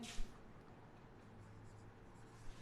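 Pen or chalk writing out a math division solution, faint scratchy strokes with a couple of small taps against quiet room hum, no speech.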